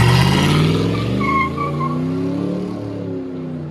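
A 1993 Ford F150 Lightning with a 5.8L Windsor V8 and true dual straight pipes gives a loud, close, deep rumble that eases down in pitch as it settles, with no talk over it.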